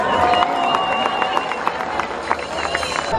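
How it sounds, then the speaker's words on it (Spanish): A crowd at a pageant in El Salvador claps for a newly crowned queen. The applause is dense and ongoing, partly masked by a loud announcer's voice and background music. "¡Fuerte el aplauso!"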